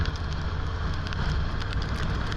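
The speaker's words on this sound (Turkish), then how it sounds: "Epey bir yağmur yağıyor şu anda da belki kameradan göz, görünmüyor olabilir ama güzel yağıyor." Steady rain pours down in Istanbul during a ride on a Honda NC 750X DCT motorcycle, a dense, continuous hiss of drops and spray with no breaks or voices.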